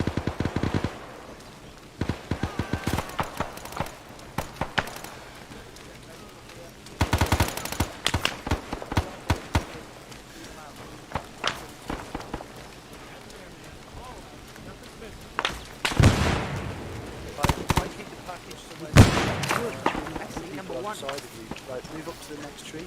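Heavy gunfire in ARMA 3 SOG Prairie Fire: bursts of automatic fire and single sharp cracks, some close and loud, others distant, scattered irregularly across the span with quiet gaps between volleys.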